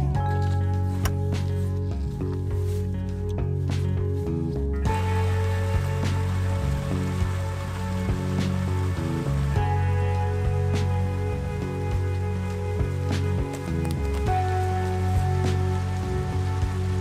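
Rain falling steadily on a parked car while someone waits inside, a continuous soft patter with a low droning hum underneath and no talking.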